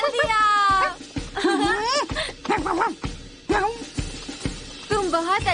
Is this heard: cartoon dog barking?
yes